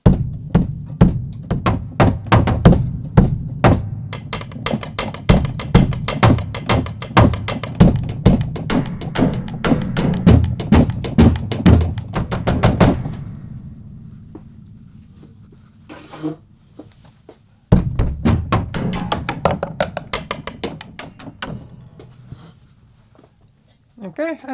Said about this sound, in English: This is classic alternative drum kit made from wood and metal sounds played on every part of the piano